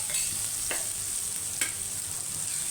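Onions and green chillies fry in a pan for a jalla fish pulusu, giving a soft, even sizzle throughout with a couple of faint stirring clicks.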